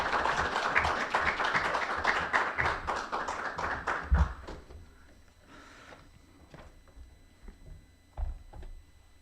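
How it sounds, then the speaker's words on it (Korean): Audience at a church pastors' webinar claps in welcome, a dense burst of many hands that thins out and fades after a few seconds, leaving scattered taps and soft thumps. "여러분들께서 격려하시는 의미에서 박수로 환영해 주시면 좋겠습니다"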